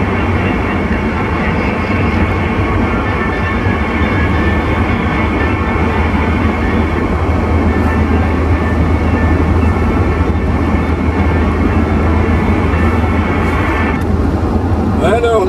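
Steam-style locomotive sound effect played over a CB radio channel in AM on the road, a continuous loud rumbling drone with low hum running steadily throughout, ending with a brief shift near the close.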